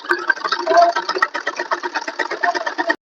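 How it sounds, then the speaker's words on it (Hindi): A sewing machine stitches a salwar waistband, a fast continuous rattling whir with rapid even needle pulses running close by for about three seconds before stopping abruptly. "ऐसे बेल्ट की सिलाई कर लेंगे।"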